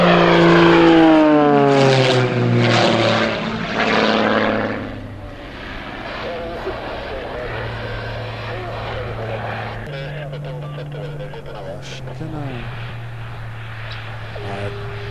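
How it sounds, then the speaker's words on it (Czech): Aerobatic propeller plane performing at an air show, its loud engine sweeping past near and then fading into a steadier distant drone as a commentator talks over it in Czech. "To bude Petrovo speciální přiblížení na přistání, ano."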